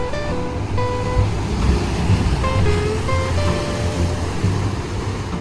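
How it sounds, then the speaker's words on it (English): Ocean waves churn around a rip current at Noosa Heads in Queensland, a continuous rushing wash of surf with steady roar and no voices. "Look at that rip current, man."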